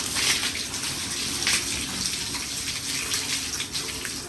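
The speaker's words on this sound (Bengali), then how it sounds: "এই যে দেখেন আমরা শেওলা সব উঠাই ফেলছি, এখন আমরা এগুলা পানিতে ধুয়ে দিতেছি।" Water splashes and gushes steadily over moss-covered stairs as they are washed, a continuous close rushing and spattering without any talk.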